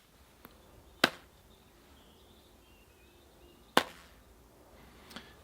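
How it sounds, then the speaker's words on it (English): Two sharp, dry slaps of a longbow string against a coat sleeve, a few seconds apart, with a fainter third tap at the end over a quiet background. "Let's listen to what the sound of the string is like when it hits that coat."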